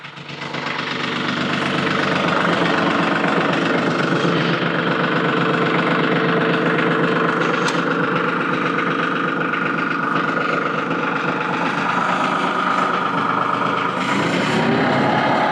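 A compact tractor running a corn planter for a garden, its engine chugging steadily and loudly up close with a constant knocking, vibrating tone.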